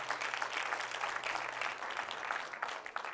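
Church congregation claps together after a sermon, a short burst of steady, moderately loud applause filling the room without any voices over it.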